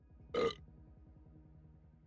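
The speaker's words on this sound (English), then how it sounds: "you putting a burp sticker on there. Water burps." A single short burp sound effect bursts out loud over a steady rhythmic background music bed, lasting about a quarter second before the music carries on alone.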